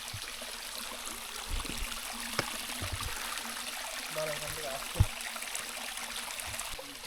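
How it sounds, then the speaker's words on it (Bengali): Water flows and pools at the foot of Dhangi Kusum waterfall near Belpahari, a soft, steady rushing wash heard from close by, broken by a few faint knocks. "এটা হলো ধাঙ্গি কুসুম ওয়াটারফলের একদম এন্ড, এখানে এসে জল জমছে"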